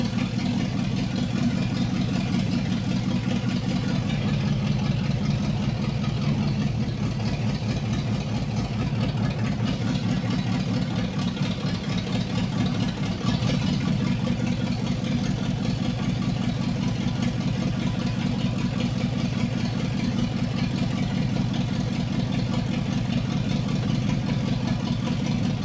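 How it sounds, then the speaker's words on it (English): A 1959 Ford F100 with a 302 gasoline engine idling, a steady low rumble with an even rapid pulse throughout, close and continuous, with no voices. "It's not a diesel, it's a 302."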